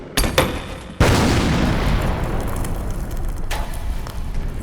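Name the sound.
grenade explosions in Warhammer animation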